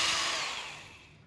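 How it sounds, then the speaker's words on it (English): A power drill bores into a waste block of wood at a workbench while making a planter, whining loudly and steadily at first, then gradually easing off as the bit works through. "So there's the drill. Into the block of wood, which is a waste piece of wood."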